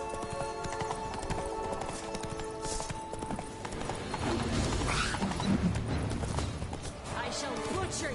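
Horse hooves clip-clopping at a gallop in The Witcher 3 video game, steady rhythmic thuds under game music and ambience, with voices speaking over it.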